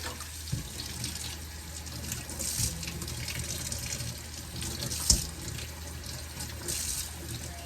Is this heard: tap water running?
yes